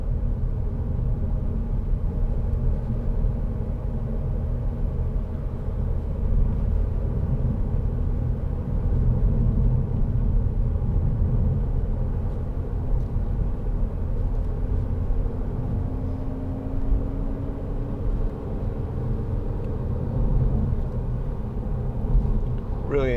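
A 2010 SEAT Leon 2.0 TD FR diesel hatchback cruising on the road, a steady low engine and road rumble from inside the cabin, constant and even throughout.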